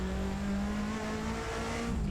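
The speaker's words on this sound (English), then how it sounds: "On throttle lift off. You can hear the turbo chattering away" Cosworth RS500 race car in Assetto Corsa, a steady loud engine drone with a fluttering turbo chatter as the throttle lifts off, continuous and close throughout.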